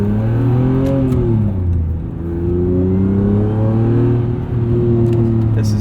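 A supercharged 1998 BMW E36 M3 accelerates hard from inside the cabin, its engine note climbing through the revs, dipping at a gear change, then rising again, loud and continuous with no talking.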